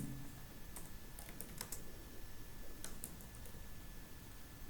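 Faint, scattered keystrokes on a computer keyboard while code for a CodeIgniter user module is typed, a few light clicks in small clusters over a steady low hiss.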